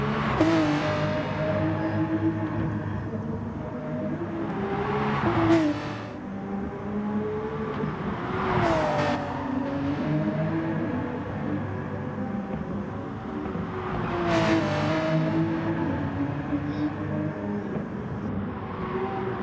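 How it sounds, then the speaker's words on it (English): A race car engine roars continuously in GT Sport at the Nürburgring Nordschleife, rising and falling in pitch as it revs and shifts through gears, loud and close. "Let's just watch the cinematics and hear the car roar."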